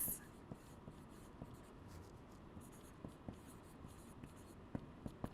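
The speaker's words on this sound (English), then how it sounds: "So we're going to write the total of the known sides." Pencil or pen writing down a sum on paper, soft scratchy strokes with small taps, faint and close in a quiet room with no talking.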